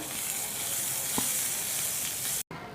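Two tablespoons of unsalted butter melting in a pan, giving a steady close hissing sizzle throughout with a brief clink, and a short cut near the end.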